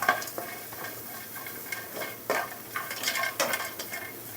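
Star anise and cinnamon dry-roast in a pan, with a spatula scraping and clinking against the metal in irregular strokes over a low sizzle, close and moderately loud.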